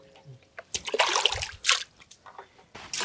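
Water flowing and splashing in bursts near a village in Nattakudi, with two loud gushes and quieter trickles and drips between them.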